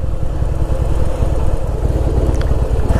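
Harley-Davidson Heritage Softail cruiser motorcycle riding along, its engine a steady loud low rumble with a faint gear change, no voices over it.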